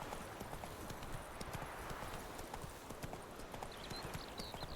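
Hooves of the horse Roach clip-clop in a steady trotting rhythm in The Witcher video game, quiet and even, with faint ambient game sound underneath.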